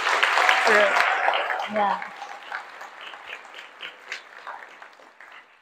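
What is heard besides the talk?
audience applause for symposium coordinator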